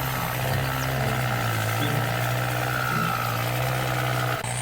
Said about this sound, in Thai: เร่งเครื่องเพื่อทำงานนะผม